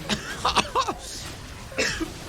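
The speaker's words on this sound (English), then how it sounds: "That had me coughing there for a little bit." A burst of coughing fits with throat-clearing sounds, close and fairly loud, coming in several short bouts with brief pauses between.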